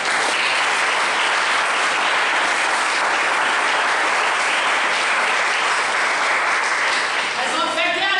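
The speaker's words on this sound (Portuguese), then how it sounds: "Um aplauso ao Senhor por isso." A church congregation breaks into sustained applause, a dense, steady wash of many hands clapping at full volume throughout, with the clapping thinning slightly near the end.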